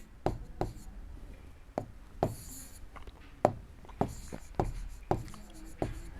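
Writing on a board makes a steady series of sharp taps and short scraping strokes, about one every half second, close and fairly clear over a low background hum.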